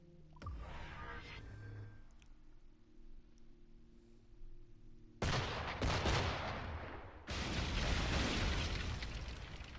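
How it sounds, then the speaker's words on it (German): Cannon fire at a gunboat in the video game Assassin's Creed IV Black Flag: three heavy, loud booms spaced a few seconds apart, each with a long rumbling tail over a low, steady engine-like drone. "Das war schon mal gut, auf das Kanonenboot zu schießen."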